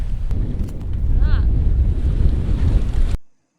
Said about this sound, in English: The wind's almost behind us, so we've got just the main up at the moment, and Charles has got his fishing gear ready